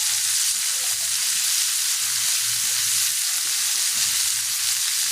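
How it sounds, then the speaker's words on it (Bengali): Spiced food fries in a pan with salt and turmeric added and is stirred, giving a loud continuous hiss of sizzling oil over faint soft scraping of the stirring. "এবার নেড়ে দেবো।"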